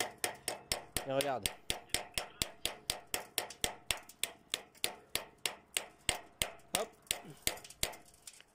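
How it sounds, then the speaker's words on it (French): A small hammer taps a notch into a stove flue pipe liner with about thirty sharp, evenly spaced metallic strikes, close and steady, while someone speaks briefly. "je vais prendre un petit marteau, je vais faire une encoche"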